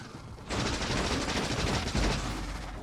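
Turrets firing red ammo in Factorio: a sudden, loud, continuous barrage of rapid gunfire that starts abruptly and keeps going, dense and close.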